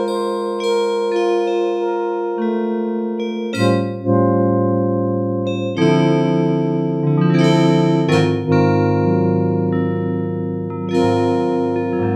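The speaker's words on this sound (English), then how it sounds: "I'm going to pick one that has a delay built into the algorithm. Bell and flute, number 7, bell and flute." A vintage 1984 Yamaha DX7 plays its bell and flute patch, bright chiming bell tones layered over sustained flute-like notes, with a built-in echo trailing each chord through a slow sequence of held notes.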